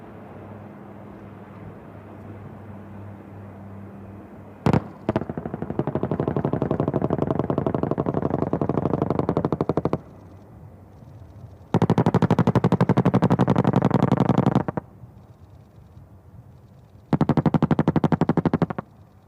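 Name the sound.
explosions from ALH Rudra helicopter attack on ground target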